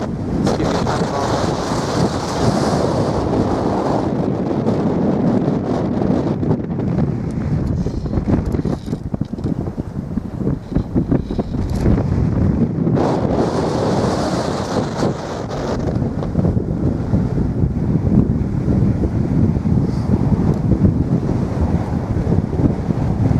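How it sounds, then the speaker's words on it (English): Strong wind roars steadily across the exposed summit of the Malvern Hills, buffeting the microphone loudly throughout, with gusts swelling and easing but never letting up. "Very windy."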